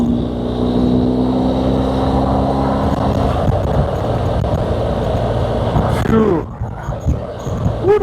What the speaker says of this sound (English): Ooh, the wind feels good.